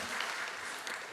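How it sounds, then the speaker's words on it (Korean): Church congregation applauding, a steady dense wash of clapping hands with no voices over it, fairly loud and even throughout. "먼저 박수를 치셔서 감사합니다."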